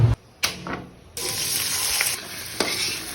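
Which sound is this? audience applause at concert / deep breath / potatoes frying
potatoes frying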